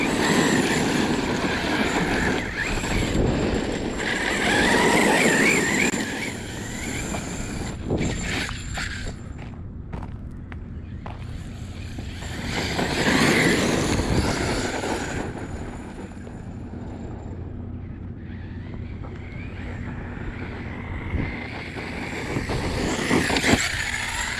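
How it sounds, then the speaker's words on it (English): An Arrma Outcast 6S RC car fitted with a Saga Customs ring and pinion gear and servo tears around outdoors, its high electric whine surging and fading loudly in repeated bursts with scuffs and clatters between runs. "That is the Outcast 6S, guys."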